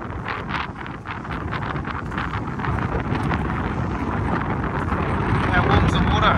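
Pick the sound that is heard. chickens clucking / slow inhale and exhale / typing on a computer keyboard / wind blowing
wind blowing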